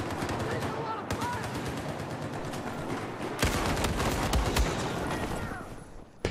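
Constant automatic gunfire in Battlefield 4, dense rapid bursts running throughout and growing heavier and louder midway, with faint voices underneath.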